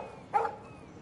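A single short dog bark in Life is Strange, one quick yip over a faint, quiet background.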